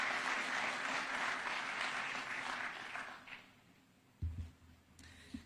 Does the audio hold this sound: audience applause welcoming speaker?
yes